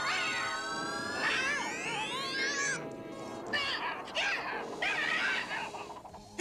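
A cartoon cat meows and yowls in a run of rising, drawn-out cries, loud and close, over a busy backdrop of animated sound effects.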